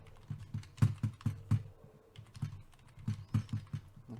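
Keys clack on a computer keyboard while a password is entered on a Hikvision NVR setup, a quiet uneven run of separate taps with a short pause midway.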